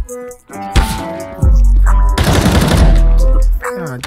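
Loud bursts of video game gunfire fill the first half, then a sustained rapid volley of automatic shots rattles on for about two seconds, up close and dominant.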